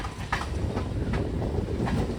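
A MEMU passenger train pulls out of Chandragiri station, its wheels clacking rhythmically over rail joints in a loud, continuous rumble heard from on board.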